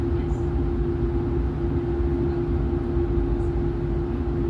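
Inside a Hitachi-built EMR Class 810 passenger train, a steady low rumble of running carriages persists with a constant hum and soft rolling noise, no voices present.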